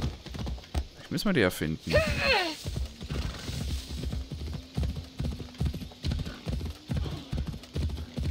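Horse hooves clip-clop in a steady rhythm while riding in Assassin's Creed Odyssey, a close, even beat that follows a short stretch of talk and carries on underneath it.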